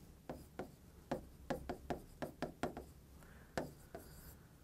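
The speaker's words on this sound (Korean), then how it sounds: "그래서 지금 자리가 좁으니까 조금 더 여유 있게 써볼게요" Chalk or marker tapping and scratching on a board during a Korean aptitude-test math lecture, a series of sharp, close strokes in an irregular rhythm with brief pauses, with no talk.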